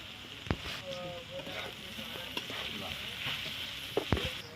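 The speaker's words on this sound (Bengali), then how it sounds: "চিচিঙ্গা গুলো আমি এইভাবে নেড়ে নেড়ে নেবো, জলটা শুকিয়ে নেবো।" Snake gourd being stirred and fried in a pan to dry off its water, a soft steady sizzle with a few sharp spatula clicks, faint and fairly distant.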